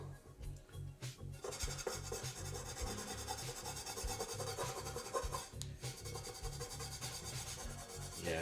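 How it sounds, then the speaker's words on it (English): A dry, crusty item is scrubbed at a sink, producing steady raspy rubbing strokes close by in a continuous rhythm with a few brief pauses, no voices. "let me take this over to the sink and scrub this off too and see what happens"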